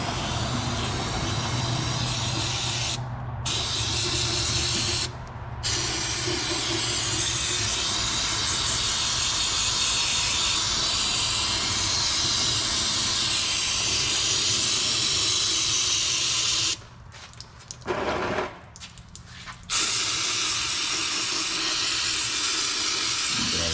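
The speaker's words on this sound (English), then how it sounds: "Come back in here with some brake clean." Brake cleaner sprays from an aerosol can into a Ford Explorer Sport Trac rear differential as a loud, sustained hiss, broken by a few short pauses between long bursts.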